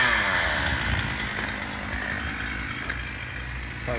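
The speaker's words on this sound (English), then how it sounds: "That's the engine in there." An engine runs at a steady idle while warming up, a continuous close rumble with a buzzy mechanical texture and no talk over it.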